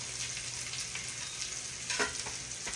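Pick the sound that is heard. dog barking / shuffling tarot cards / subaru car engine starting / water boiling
water boiling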